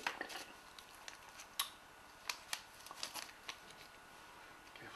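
Graham Farish Class 24 model locomotive being slid out of thin plastic protective sleeving, soft close crinkles and rustling with a few sharper crackles, quiet throughout.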